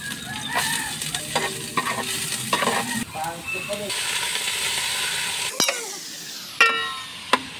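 Ginger and garlic sizzle and spit in hot oil in a pan while a utensil stirs and scrapes, with crackling bursts and clinks close by and a brief lull toward the end.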